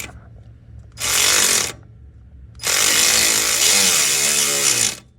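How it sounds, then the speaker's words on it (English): A ratchet spins a bolt home in two bursts, a short whirring run then a longer one, loud and close, with quiet gaps between. "So now we can take our ratchet"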